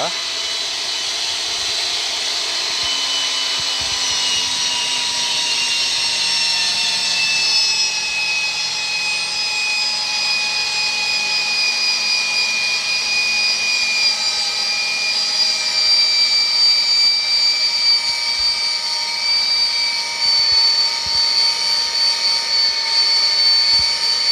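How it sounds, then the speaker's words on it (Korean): A pipe threading machine cuts threads into pipe with cutting oil flowing during pipework practice, giving a steady, loud, continuous mechanical whine with high ringing tones that drift slightly over the whole stretch. "자, 나사절삭을 한번 해보겠습니다."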